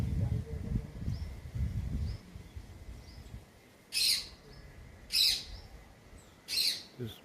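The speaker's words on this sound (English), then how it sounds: "It's a tickells blue flycatcher." A Tickell's blue flycatcher calls in Gir National Park with three short, bright calls at even intervals. The calls are fairly faint against a quiet outdoor background, and a low rumble comes before them.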